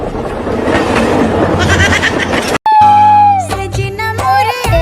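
Train running along a railway line, a loud continuous rumble with rhythmic rail clatter and a brief break before sharp metallic squeals and tonal horn-like tones ring out near the track.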